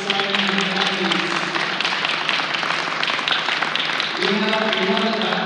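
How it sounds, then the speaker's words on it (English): Sustained applause from a crowd at a high school signing day ceremony honoring student athletes, steady dense clapping throughout with voices and cheering mixed in. "One more round of applause for all the student athletes signing their jerseys."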